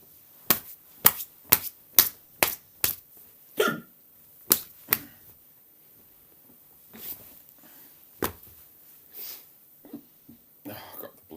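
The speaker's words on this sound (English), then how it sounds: "I've got the bloody hiccups again." Sharp, quiet hiccups come in a rapid series of about nine evenly spaced jolts, then a few scattered ones, with soft breathy sounds between them.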